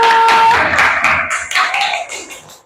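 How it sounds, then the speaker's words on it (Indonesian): A fifth-grade classroom gives group 1 a round of applause: a dense, scattered patter of many small hands clapping together, loud at first and then thinning out over a few seconds. "Kita beri tepuk tangan kepada kelompok 1"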